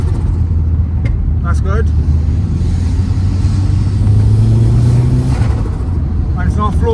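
A turbocharged Ford Escort RS 2000 engine accelerates with a steady droning rumble and rising pitch, loud inside the car, while someone speaks over it.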